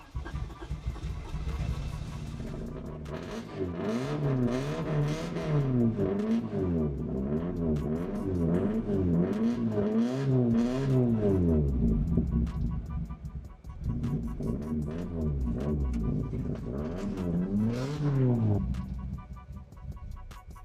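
A car's 4AGE engine with a fuelling issue revs up and down repeatedly, rising and falling in pitch in rhythmic surges, loud and close.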